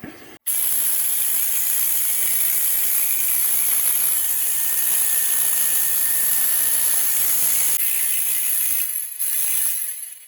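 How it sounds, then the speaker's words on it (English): A tiny compressor inside an ADNOOM 6000mAh battery portable air pump tire inflator runs with a loud, steady high-pitched whine and hiss, close up, with no talking, cutting out briefly near the end. "That is a tiny compressor."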